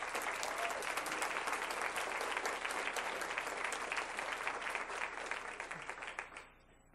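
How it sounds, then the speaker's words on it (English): A large audience at a school board meeting gives a steady round of applause, many hands clapping densely for about six seconds before fading out. "Let's give her a round of applause."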